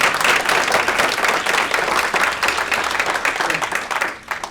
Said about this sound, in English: Guys, I think we can clap again.